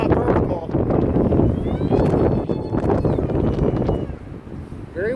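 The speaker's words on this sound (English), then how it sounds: "Very windy." Strong wind gusts roar and buffet the microphone at an RC model flying field, a loud, continuous rumble that eases briefly near the end, with a faint whine of a model jet in the background.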